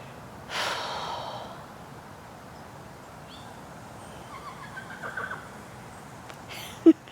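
A faint, distant horse whinny rises early over a quiet outdoor background at a cemetery beside a horse farm, followed by soft snorting and breathy sounds, then a brief sharp knock.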